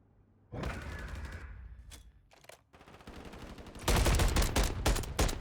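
Gunshots crack in an esports shooter match, with a burst of rapid fire, a few isolated shots, then a louder, sustained stretch of automatic fire near the end.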